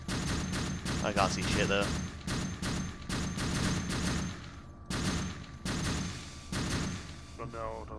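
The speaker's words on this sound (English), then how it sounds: "they're shooting at him" Repeated gunfire bursts in a Vietnam War combat video game, loud impulsive shots crackling steadily throughout with someone talking over them.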